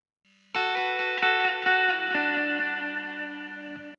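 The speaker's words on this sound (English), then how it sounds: "And finally, I added this electric guitar filler." Electric guitar filler line for an indie folk song, played with delay and reverb effects: sustained chords ring out alone after a brief low hum, with several strums echoing and tailing off over four seconds.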